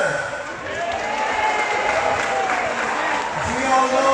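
A crowd at an outdoor event applauds in a dense, steady patter of clapping, with a voice over a loudspeaker faintly audible underneath.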